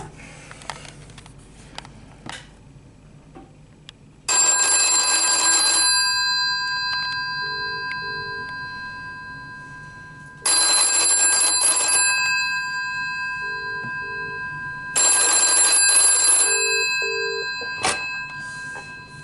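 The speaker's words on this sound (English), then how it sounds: "If I ring my number, it's going to do the United States ringing cadence on this though." A telephone connected to a 4G home setup rings in the American cadence: three long bursts of loud, bright electronic bell ringing, each about two seconds, separated by roughly four-second silences, with faint clicks and handling noises between.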